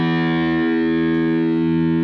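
A single sustained electric guitar note played through distortion rings steadily and loudly for about two seconds with no voice over it.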